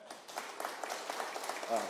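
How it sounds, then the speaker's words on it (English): An event audience claps for the sponsors, a soft wash of scattered applause heard from a distance with speech overlapping. "Let's clap it up."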